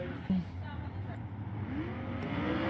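Midget race cars run on a tricky speedway during a restart, their engines producing a steady, distant roar over crowd noise and a faint voice, with no single car standing out close by.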